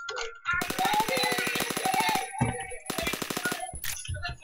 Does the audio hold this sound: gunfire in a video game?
yes